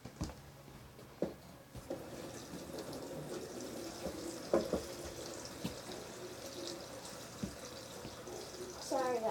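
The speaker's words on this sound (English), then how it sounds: "I'm going to fill this up with water." Water runs from a kitchen tap on a counter to fill a container, making a faint, steady rushing hiss broken by occasional soft knocks and clatters.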